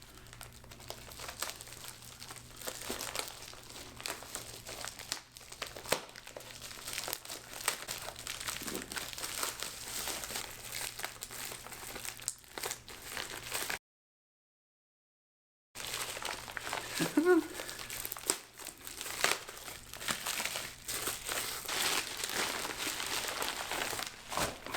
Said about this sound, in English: So they've done a little bit of newspaper packaging.